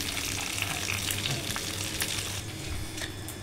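Two fish fry in hot oil with a continuous close crackling sizzle, steady and moderately faint, with no voices.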